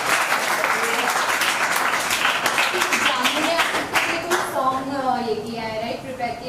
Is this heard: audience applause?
yes